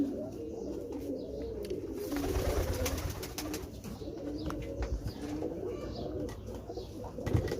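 Rampuri pigeons coo softly and repeatedly at close range, low throaty calls overlapping with faint rustles and a brief flutter, with no voices.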